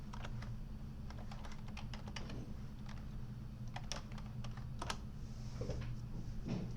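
A password is typed on a computer keyboard during a software setup, with quick, irregular key clicks in short bursts over a steady low hum, close and fairly quiet, no talk.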